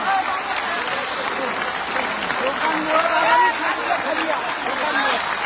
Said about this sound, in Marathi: 30 सेकंद सलग टाळ्या वाजवत राहायचे